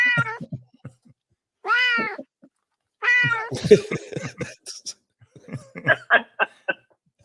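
A voice imitating a cat on fire with drawn-out, rising and falling meow-like yowls, followed by chuckling and laughter from people nearby.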